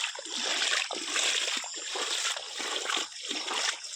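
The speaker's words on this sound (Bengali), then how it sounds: "দেখো গাইস রাস্তার উপরে কত জল।" Floodwater splashes and sloshes steadily across a submerged road during a severe flood, loud and close, with faint voices in the background.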